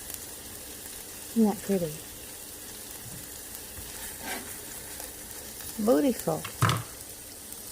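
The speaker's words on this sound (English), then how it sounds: "So while the vegetables are sauteing, I'm dicing up some ham." Vegetables sauté in a hot pan with a soft, steady sizzle, while a person talks briefly over the cooking.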